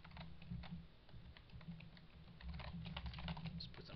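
Quiet, rapid clicking of keys on a computer keyboard, a continuous patter of typing heard faintly and close.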